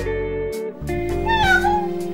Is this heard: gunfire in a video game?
no